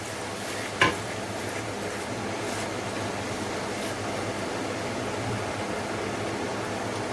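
Two large tomatoes frying in a pan for Pakistani-style daal palak, a steady soft sizzle under a constant low hiss, with one brief knock or stir near the start and no speech.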